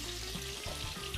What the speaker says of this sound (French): Je vais juste saisir les oignons comme ceci.